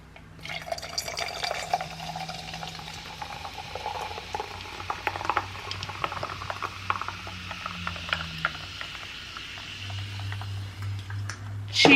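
A strawberry cucumber drink is poured into a glass, giving a soft, bubbling, gurgling fill with a few clinks, close and quiet.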